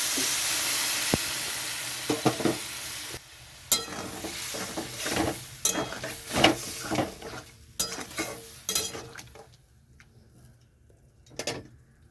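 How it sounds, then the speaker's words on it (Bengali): Water is poured into a pan of frying prawn, potato and eggplant curry, bringing a hissing sizzle at first, then intermittent clinks and scrapes of a spoon against the pot as the bubbling quiets. "এখন আমি দিয়ে দিচ্ছি পরিমাণ মতন জল"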